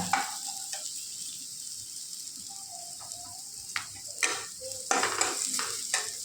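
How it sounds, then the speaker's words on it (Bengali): Ground spice masala with cumin and coriander powder fries in a pan, a faint steady sizzle under clinks and scrapes from stirring that grow busier toward the end, close and alone without talk. "এবার এটাকে আমি ভালো করে কষিয়ে জল দিয়ে দেব"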